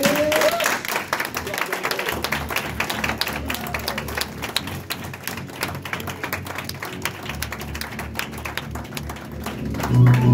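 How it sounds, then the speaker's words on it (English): An applause break at a Saturday training session for a trainee, brisk scattered clapping from a group in a room with some thumps and taps mixed in, running steadily for several seconds. "let's give him a round of applause."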